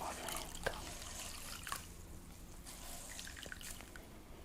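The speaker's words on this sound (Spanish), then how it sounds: "Exprimimos toda la cantidad de agua" Water wrung out of a cloth during a massage treatment, a soft steady trickle with scattered drips and splashes, quiet and close, with no voices.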